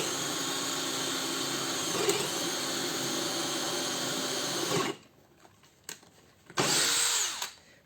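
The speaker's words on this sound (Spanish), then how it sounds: "Es importante que yo centro la broca en el lugar de la perforación" A DeWalt cordless drill spins steadily drilling a hole for about five seconds, then stops; after a few faint handling clicks it whirs up again in a short final burst.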